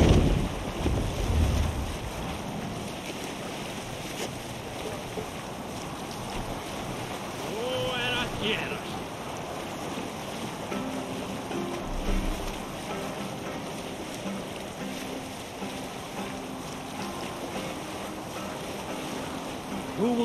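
Wind and sea wash around a sailing Viking longship in Assassin's Creed Valhalla, a steady broad rush of wind and waves with light creaks, and a voice speaks briefly partway through.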